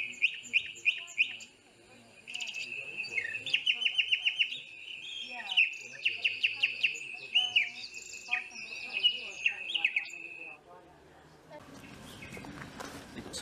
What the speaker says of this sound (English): there is a nightingale singing.